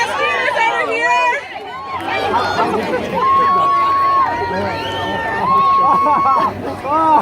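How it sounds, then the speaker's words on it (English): Spectators cheer on contestants at a pie eating contest at the 2016 San Mateo Fair, a lively mix of shouts and babble beneath a close announcer's voice. "Cheer them on, guys. Cheer them on."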